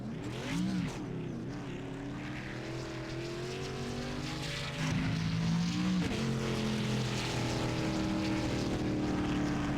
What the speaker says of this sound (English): celebrate with a burnout